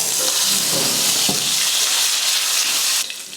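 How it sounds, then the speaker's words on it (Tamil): Mustard seeds, urad dal, asafoetida and curry leaves sizzle steadily in hot oil for a tempering, a dense close hiss with faint crackles throughout that drops away abruptly near the end. "எண்ணெய் காஞ்சதுமே கடுகு உளுந்து, கொஞ்சம் பெருங்காயத்தூள், அடுத்து கருவேப்பிலை"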